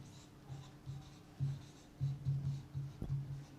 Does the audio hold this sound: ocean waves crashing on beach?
no